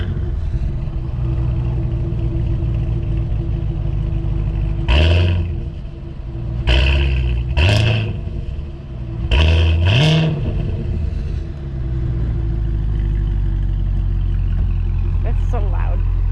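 A 2022 Cadillac CT5-V Blackwing engine revs in several sharp, loud bursts over a steady rumbling idle, with short pauses between blips, heard close up.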